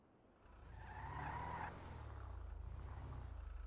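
A Chevrolet Silverado in the GTA FiveM game drives with a rising engine tone and a tire squeal that peaks and then settles into a steady drone, close and fairly loud, with no talking.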